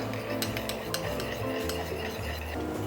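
Sesame paste and barbecue sauce being stirred in a bowl, with a spoon scraping and clinking rapidly and repeatedly against the dish, close and steady.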